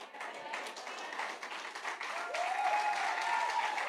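Applause rises from a church congregation, a steady wash of many hands clapping that swells slightly, with a voice talking over it.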